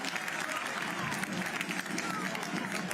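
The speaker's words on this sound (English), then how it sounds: "Crowd much more into it now as well." Soccer crowd in the stands at Starfire stadium during a Seattle Sounders match against Phoenix Rising, a steady, dense roar of cheering and applause that carries on throughout.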